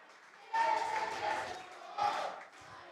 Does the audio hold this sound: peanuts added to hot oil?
no